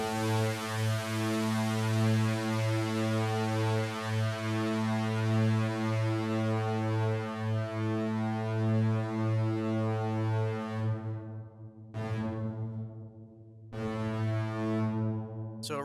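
A Zebra2 software synth sustains one held note through its reverb with the dry signal turned off, a steady low harmonic drone that cuts out abruptly twice near the end before resuming.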